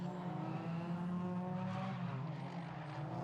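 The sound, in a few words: Ford Fiesta race cars at Cadwell Park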